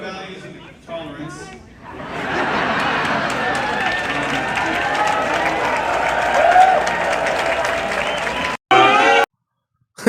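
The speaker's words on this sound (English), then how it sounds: "He's getting booed" A crowd at a political rally loudly booing a heckler, a sustained wall of voices and noise that swells and then cuts off abruptly near the end.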